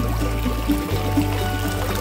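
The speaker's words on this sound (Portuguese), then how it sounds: "Olha lá, a bombinha funcionando." A small pump sends water into a little garden cascade, making a steady pouring trickle over a constant low mechanical hum, with no talk.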